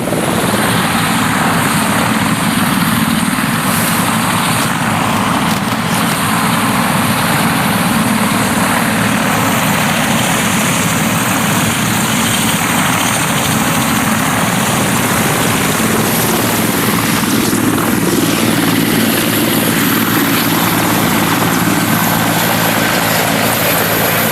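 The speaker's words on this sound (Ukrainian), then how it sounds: "Зараз побачимо, як виглядає робота наших гелікоптерів безпосередньо на передньому" Mi-24 and Mi-8 military helicopters fly over front-line positions, their engines and rotors giving a loud, steady, continuous drone with no pauses and no voices.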